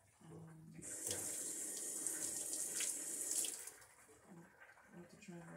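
A turned-on tap runs steadily into a sink for about three seconds, a bright continuous hiss and splash that then cuts off, with people talking briefly before and after.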